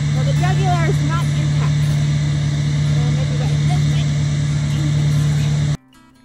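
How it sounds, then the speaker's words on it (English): A diesel pickup truck engine idling during a hunting trip, a steady low drone with a strong constant hum running under brief bird-like chirps and some talk before cutting off abruptly near the end. "you guys get to hear my diesel engine"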